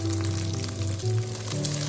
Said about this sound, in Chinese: 把腐竹和鸡蛋煎至一面定型